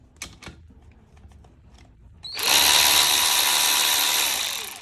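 Parkside PAR12A1 cordless ratchet whirring loudly and steadily at close range after a few light clicks and handling sounds.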